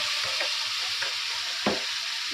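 Spices dropped into hot oil in a frying pan and stirred, a continuous close sizzle with a few scraping strokes of the spatula, no talking.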